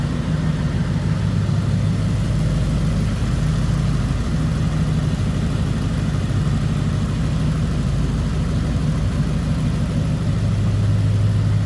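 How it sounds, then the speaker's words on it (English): A 1936 Ford Deluxe two-door sedan's flathead engine idles smoothly and evenly, a low, steady rumble with no revving, heard up close without any talking. "Nice smooth running engine."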